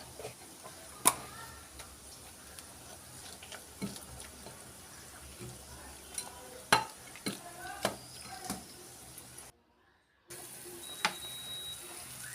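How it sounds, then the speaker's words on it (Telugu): Cooked tomato dal is mashed with a wooden dal masher in a home kitchen. Soft irregular knocks and squelchy scrapes come up close against a quiet background, with a brief silent gap near the end. "ఒక పప్పు గుత్తి తీసుకొని మెత్తగా మెదుపుకోవాలండి"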